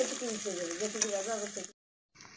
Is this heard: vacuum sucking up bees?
no